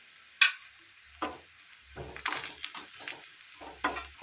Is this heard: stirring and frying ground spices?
yes